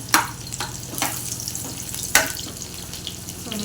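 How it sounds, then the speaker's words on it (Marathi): Bay leaf and cinnamon sautéing in hot oil in a pan, a close, continuous sizzle broken by a few sharp spatula scrapes and knocks. "तमालपत्र दालचिनी हेही चांगलं लाल होईल परत परतूया"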